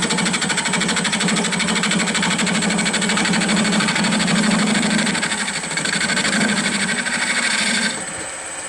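A bowl gouge cutting on a wood lathe while turning a baseball bat, a loud continuous buzzing rasp with a steady motor hum that fades near the end as the cut stops.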